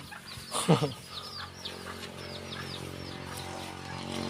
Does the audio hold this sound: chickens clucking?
yes